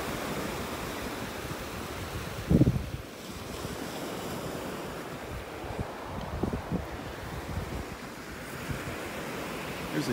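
Ocean waves wash onto a beach in North Naples, Florida, a steady broadband surf roar with wind buffeting the microphone and one brief louder gust or thump near the start; no talking.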